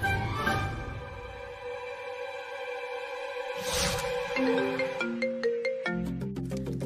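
A phone rings with a melodic electronic ringtone while a call is being placed, its bright tones rising in short repeated phrases and growing denser toward the end, alone without speech.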